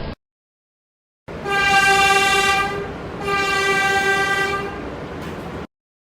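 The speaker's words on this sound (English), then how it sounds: "This is a Queens-bound C local train." A Queens-bound C local New York MTA subway train sounds two long, loud horn blasts close by, separated by a short dip, before falling silent.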